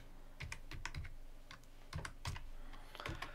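Keys on a computer keyboard clack as a search is typed, quiet irregular taps in short bursts with brief pauses between them, close and alone.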